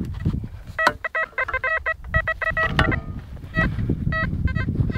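A metal detector set off by a shovel gives repeated rapid electronic beeps in short clusters, close and fairly loud, over scraping and outdoor rumble.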